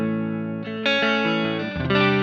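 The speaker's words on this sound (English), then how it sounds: "I want some reverb and I want some modulation. I just want a little bit of chorus." Electric guitar played clean through a NUX Cerberus multi-effects pedal with chorus modulation and reverb, a few sustained chords shimmering and ringing out close and alone.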